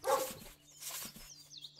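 Dog in the video game Above Snakes, two or three soft close woofs spaced apart at low volume.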